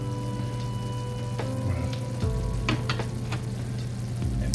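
Shrimp sizzle steadily in a hot pan as scampi cooks, a constant frying hiss with occasional soft clinks and stirring taps over it, close and moderately loud.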